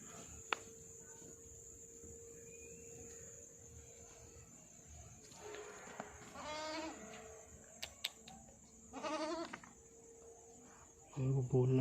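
A goat bleats a few times, fairly faint against a steady insect-like background hum, with some louder knocks and movement near the end.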